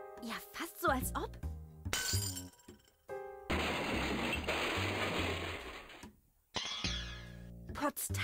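Glass clinks and shatters in the video game Edna bricht aus, several sharp bright hits with ringing tones, then a longer noisy crashing stretch and more chiming hits near the end, mixed with game music.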